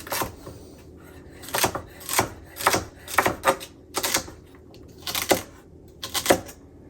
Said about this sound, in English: And then I cut it into approximately 1/4 inch dices.